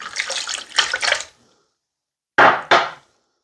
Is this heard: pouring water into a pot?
yes